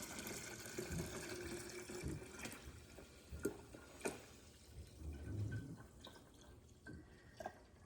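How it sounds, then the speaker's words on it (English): Warm homemade plain yogurt is poured back into a jug, giving a faint, wet, sloshing trickle with drips over several seconds, close and quiet over a steady background hum. "to pour this back into this jug"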